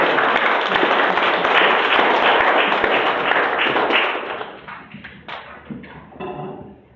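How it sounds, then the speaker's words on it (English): Loud, dense applause from a crowd, sustained for several seconds before thinning out into scattered claps and fading. "Let's give a big round of applause for Ventura."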